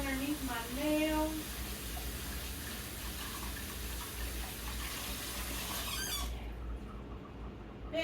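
Tap water runs steadily at a sink while hands and nails are scrubbed, a soft continuous hiss that cuts off near the end, with a person speaking briefly at the start.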